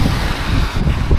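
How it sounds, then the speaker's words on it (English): Gusty wind buffets the microphone outdoors on a bleak, wet evening, a steady low rumble of moving air throughout with no voices. "windy and wet Sunday evening"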